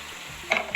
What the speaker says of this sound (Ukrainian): І кілька разів будемо її розмішувати, щоб капуста заплакала, пустила сіль, стала мокрою.